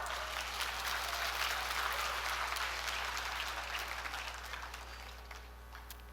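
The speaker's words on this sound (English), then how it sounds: "Can you please give yourselves a round of applause?" Trainees at a Riway leadership training seminar in the Philippines give themselves a long round of applause, thick steady clapping over a constant low electrical hum, gradually tapering off.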